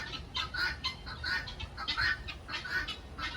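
Several chickens clucking and murmuring close by in repeated bursts, a steady low rumble underneath, no talking.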